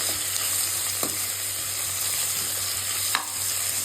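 Sliced onion sautéing in a pan until medium golden, with a dense, constant sizzle and a few sharp spatula scrapes.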